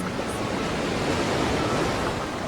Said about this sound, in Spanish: El oleaje del mar.